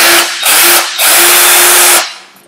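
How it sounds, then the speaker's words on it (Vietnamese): A DeWalt power drill whines loudly in three short bursts, then one longer run before spinning down, close to the microphone. "nghe động cơ rất là sướng"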